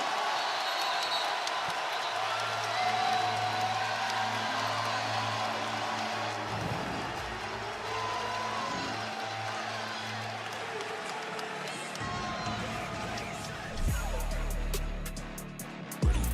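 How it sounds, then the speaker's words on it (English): College basketball arena crowd during an Auburn versus Oklahoma timeout, a sustained roar of cheering with horn-like tones and band music underneath, loud and steady throughout. "Listen to this crowd."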